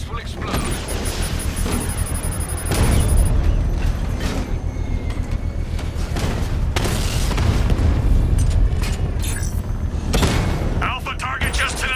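A device explodes in Batman Arkham Knight amid dense game action, heavy booms and mechanical clanking over a steady rumble, with voices talking throughout.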